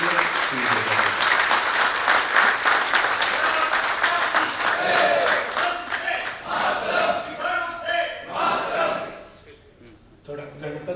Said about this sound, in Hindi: जोरदार तालियों के साथ स्वागत कीजिए, अभिनंदन कीजिए सुनील देवधर जी।